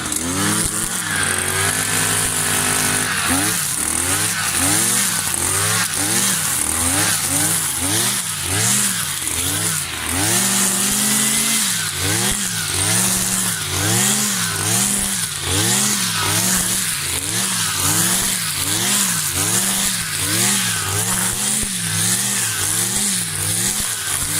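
A powerful motor scythe, a brush cutter used on farm grass, runs up close and loud, its small two-stroke engine buzzing steadily and then revving up and down again and again in a repeated rising-and-falling whine.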